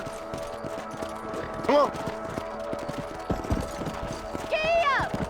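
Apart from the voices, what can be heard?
horse hoofbeats while riding, from the video game Red Dead Redemption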